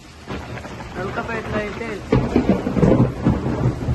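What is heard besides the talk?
thunder and rain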